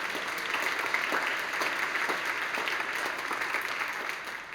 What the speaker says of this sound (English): Let's give them a round of applause as they've been here.